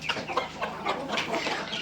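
Several Gürk chickens cluck and chatter close by in quick overlapping bursts, a busy, continuous coop murmur.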